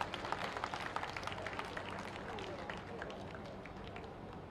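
A crowd of party workers at a political membership rally in Madhya Pradesh claps to welcome the chief minister, dense rapid clapping with sharp bursts early that settles into a steady patter, with voices mixed in.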